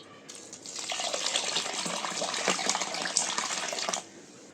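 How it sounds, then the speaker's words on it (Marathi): Water pours steadily from a vessel while soaked ration rice is drained and rinsed with fresh water, a continuous close gushing and splashing lasting about four seconds, with no talking. "तर आता हे पाणी आपण काढून घेऊ आणि ह्याच्यात दुसरं पाणी टाकून परत धुवून घेऊया।"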